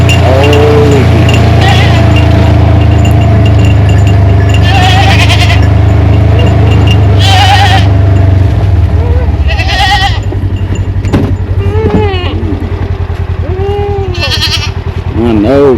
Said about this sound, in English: I know, goats. I know.